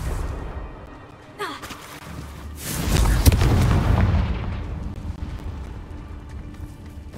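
A Confringo blast spell from a Harry Potter-style video game, a loud booming burst that swells around three seconds and slowly decays into a rumbling tail, preceded by a brief whooshing sweep.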